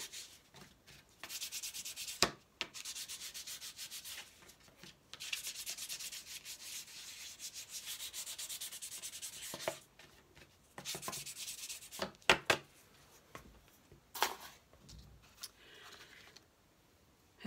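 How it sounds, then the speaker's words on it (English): Sandpaper rubs against a slippery journal cover held over a trash can, coming in close, raspy bursts of scraping separated by short pauses. "I think I need to sand it just a little bit."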